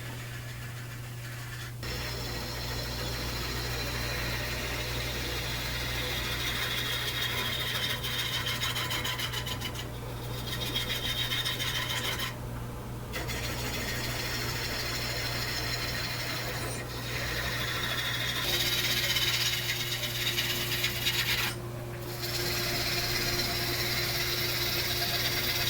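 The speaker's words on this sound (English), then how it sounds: "and I'm using a bowl gouge." A bowl gouge cuts a silver maple bowl spinning on a wood lathe at about 800 rpm, producing a steady scraping, rasping sound over a constant motor hum, broken by a few short pauses.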